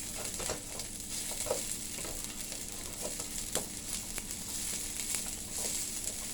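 Beef and onion stir-fry for rice noodles, a constant soft sizzle of hot oil with scattered stirring scrapes and light pops, steady and fairly quiet throughout.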